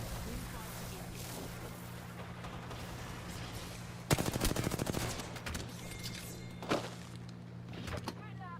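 Gunfire in the video game Apex Legends during a championship match, a burst of rapid automatic shots midway with scattered single shots after, faint and under a constant low hum, with some talk.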